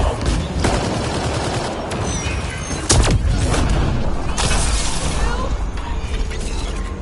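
Turret gunfire in the sci-fi shooter Mass Effect: Andromeda, loud and dense, with bursts of shots, booms and mechanical clatter overlapping in a steady barrage, plus a sharp blast near the three-second mark.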